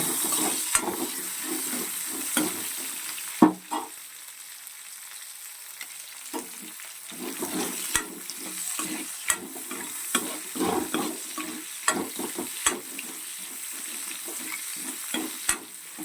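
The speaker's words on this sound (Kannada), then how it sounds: "ಸೊ ಈರುಳ್ಳಿ ಸ್ವಲ್ಪ ಗೋಲ್ಡನ್ ಬ್ರೌನ್ ಬರೋ ತನಕ ಸ್ವಲ್ಪ ಫ್ ರೈ ಮಾಡ್ಕೊಳ್ಳೋಣ" Onion and green chili frying in a pan for hotel-style paneer tikka masala, sizzling broken by repeated scraping stirs at irregular intervals, with a brief quieter gap early on and no speech.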